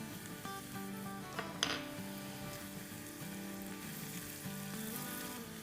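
Red chili powder and turmeric sizzling in hot oil in a pan: continuous crackling fry with a few clinks of a utensil against the pot, close and fairly quiet, with no talk.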